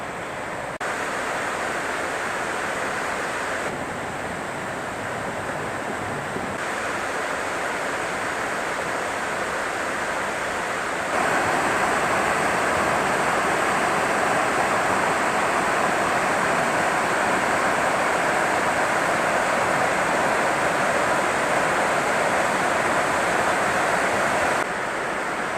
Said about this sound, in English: there's an awful lot to see here at Rockaway Falls